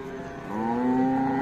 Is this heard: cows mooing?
yes